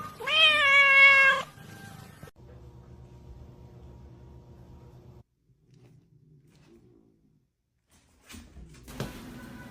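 A single loud, drawn-out cat meow up close, followed by quiet humming background noise and a brief rustle near the end.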